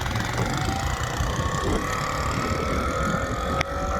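A vehicle engine drones steadily up close, a continuous mid-pitched rumble that holds loud and even as the driver feeds it more gas.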